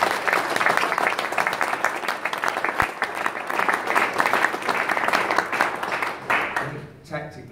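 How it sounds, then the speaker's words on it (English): A room full of people at a boxing press conference for Crolla vs Burns breaks into steady applause, dense clapping that holds for several seconds before tapering off at the end. "I'd like everyone to give Anthony and Ricky Burns a huge round of applause"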